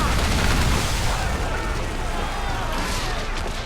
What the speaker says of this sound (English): As we get in close, we're going to unleash the heavy shot.